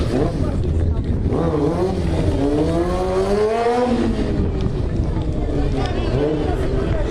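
A motorcycle engine revs and rises in pitch during a stunt show, droning loudly under an excited announcer's voice amid crowd noise.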